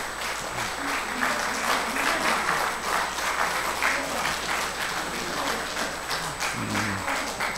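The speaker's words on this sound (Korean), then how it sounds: "우리 수고해 주신 우리 집사님들께도 크게 한번 박수 한번 쳐주시기 바랍니다" A church audience at a retirement and honorary deaconess ceremony applauds warmly, a loud, even wave of clapping held for several seconds with a faint steady tone and murmured voices beneath.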